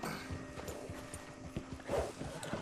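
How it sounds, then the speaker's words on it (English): Horse hooves clopping faintly in Red Dead Redemption 2, a soft irregular walking beat set against low game ambience. "Yo, Jose, can you get your damn horse, bro?"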